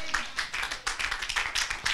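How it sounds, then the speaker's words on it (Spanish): A church congregation gives a burst of applause during a Sunday service, rapid overlapping claps in several pulsing waves, fairly close and lively. "Da un fuerte aplauso a Dios."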